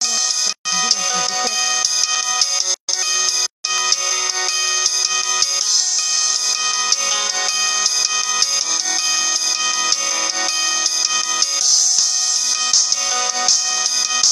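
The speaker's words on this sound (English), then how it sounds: "my phone is ringing" A mobile phone ringtone plays loudly and continuously, a steady electronic melody with brief dropouts near the start, with no talking over it.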